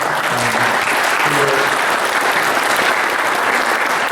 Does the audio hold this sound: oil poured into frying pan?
no